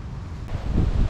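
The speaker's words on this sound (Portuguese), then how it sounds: "com esse barulho do mar, dessas ondas" Sea waves washing onto a beach beside a coastal trail in a state park, a steady rushing roar mixed with wind buffeting the microphone, swelling louder toward the end of the short stretch.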